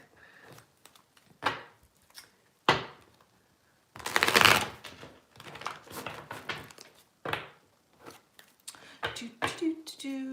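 Intermittent riffling bursts of playing cards being shuffled, a dozen or so quick rustles with short pauses between, close by.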